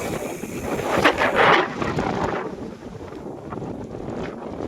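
Wind buffets the microphone outdoors on a new bypass road toward Cavite City, giving a steady low rumble that swells into a stronger gust near the start and then eases to a lower roar.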